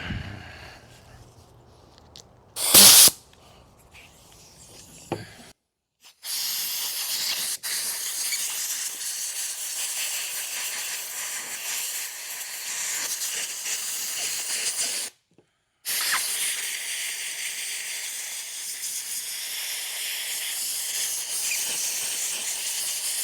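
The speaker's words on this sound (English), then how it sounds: "The air hose." Compressed air blasts loudly and steadily from an air hose in a garage while working on a leaky steering box of a 1981 Corvette, with a short sharp burst first, then long continuous hissing broken by one brief pause.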